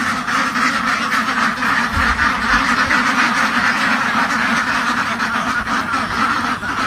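A noisy flock of domestic ducks quacking continuously and loudly at close range near a coop, many calls overlapping without pause.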